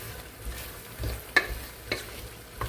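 Chicken frying with mint and coriander for a biryani, a soft, low sizzle with a few sharp stirring clicks from a spoon against the pan.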